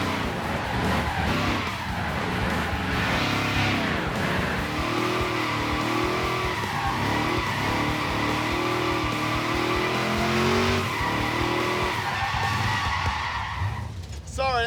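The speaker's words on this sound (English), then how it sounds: "He learned how to do it, now he's drifting." A car drifts with long tire squeals and skidding over a revving engine, the squeal rising and falling in sweeps before cutting off abruptly near the end; voices are faintly audible underneath.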